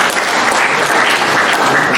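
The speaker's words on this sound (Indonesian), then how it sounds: "Tepuk tangan untuk pansus truk." An audience at an official government event in Bali breaks into dense, loud applause that runs steadily for about two seconds.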